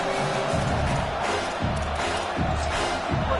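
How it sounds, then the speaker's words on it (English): A home stadium crowd roars in an NCAA college football video game, a dense, continuous and loud wash of cheering that holds steady for a few seconds, with no talk. "Man, this crowd really affecting the football game."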